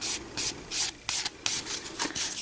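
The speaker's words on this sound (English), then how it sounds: "I'm going to go in the direction of the finish filing technique by CND, starting with the reverse" A hand file works a CND Brisa Lite sculpting gel nail in steady, rhythmic back-and-forth strokes, a close, raspy scratching with brief pauses between passes and no talking.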